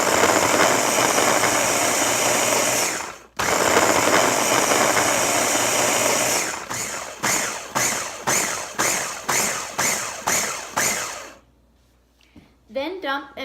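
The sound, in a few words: blender mixing cold unsalted butter into dry ingredients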